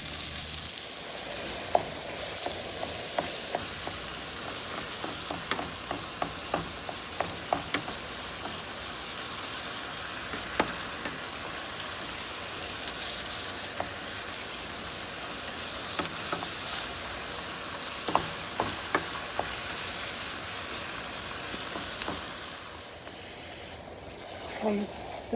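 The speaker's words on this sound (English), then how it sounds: "We want to saute the onion until they're soft." Onion, ground beef and garlic sauté in a pan with a steady broad sizzle and scattered ticks of stirring, holding fairly level before dropping off near the end.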